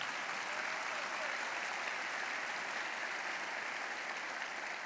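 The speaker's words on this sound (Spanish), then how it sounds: "Dale un fuerte aplauso a Jesús." A church congregation applauds together in a steady, dense wash of clapping that holds at an even level throughout, with no break or lull.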